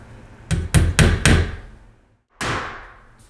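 A hammer drives a finish nail into an interior door jamb with four sharp, close blows in quick succession, then a single heavier knock after a short pause.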